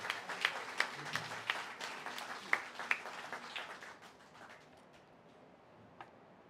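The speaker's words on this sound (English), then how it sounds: "Give that woman a round of applause because she's a herald." Applause from an audience at a veterans' birthday party, a steady patter of many hands with sharp individual claps standing out, fading toward the end with a few last claps.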